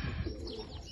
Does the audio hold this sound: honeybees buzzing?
no